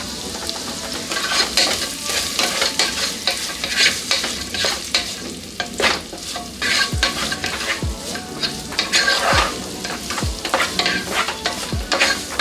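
Two medium onions, finely chopped, fry in a pan for an egg masala, giving a steady loud sizzle broken by repeated scraping stirs, with no one talking.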